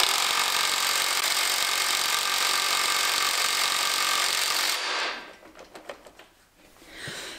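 Power tool straining to loosen the central crankshaft bolt of a nearly 30-year-old engine during a crankcase overhaul: a loud, steady grinding whir for about five seconds, then it stops, leaving scattered clicks and clanks.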